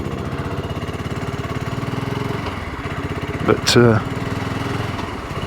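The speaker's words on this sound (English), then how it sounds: "Can't beat the characterful sound of a single." A BSA Goldstar single-cylinder motorcycle engine runs steadily with an even, throbbing beat, loud and close, while someone speaks briefly over it.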